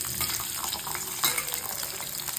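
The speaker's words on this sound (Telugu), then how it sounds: "ఆయిల్ వేడెక్కినాక ఈ ముక్కలు వేసుకోవాలండి" Pieces of spiny gourd fry in hot oil in a kadai, giving a steady, close sizzle with a few brief crackles and stirring scrapes throughout.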